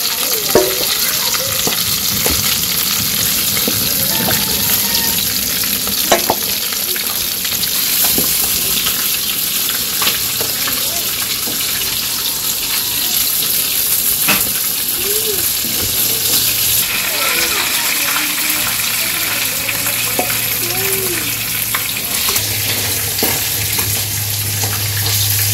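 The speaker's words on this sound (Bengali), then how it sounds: "মাছ ভাজা হয়ে গেছে নামিয়ে নেই" Pieces of fish frying in hot oil in a simple village kitchen give a steady, close sizzle throughout, with intermittent stirring and scraping sounds on top.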